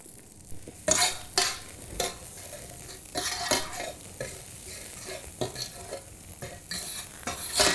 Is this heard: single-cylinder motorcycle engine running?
no